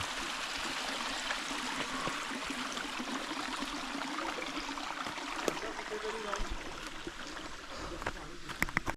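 Steady broadband rushing of a flowing stream fills the whole clip, with a few faint clicks and knocks near the end.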